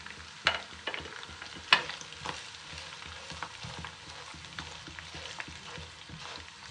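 Ground spices, including Kashmiri chili, roast in a pan with a faint, steady sizzle while a spoon scrapes and taps through them, two sharper knocks standing out early among softer stirring strokes.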